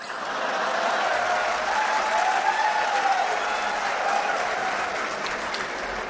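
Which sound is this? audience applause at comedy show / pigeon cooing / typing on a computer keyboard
audience applause at comedy show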